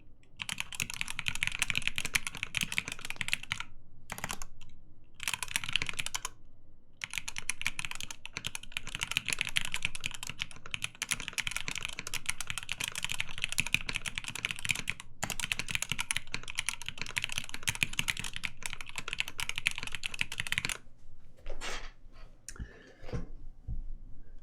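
Steady, rapid clacking of typing on a Matrix Abel mechanical keyboard with FFF linear switches, close and continuous, broken by a few brief pauses near the end, with no voices.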